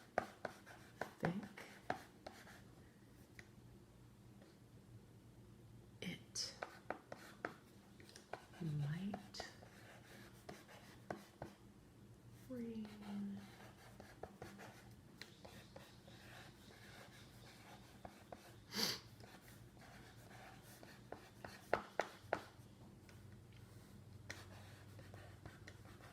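Faint scratchy strokes of a marker on a board during a phonics lesson, coming in short irregular bursts and squeaks against a quiet room with soft, hushed voice sounds.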